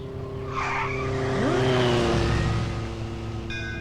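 A new Japanese motorbike roars past loudly, its engine whine rising and sweeping in pitch with a screeching edge, then fading as it speeds away.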